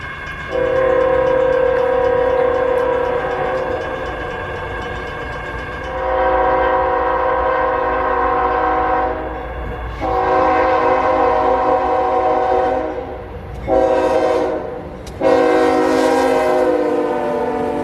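Freight train Q648 rolls past close by with a loud, sustained roar, its horn sounding in several long blasts broken by short gaps.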